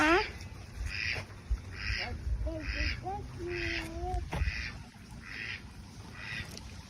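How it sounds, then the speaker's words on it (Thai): Repeated quacking from ducks on a farm at a steady rhythm, fairly close, with a few softer calls mixed in. "เป็ดกาบกาบ"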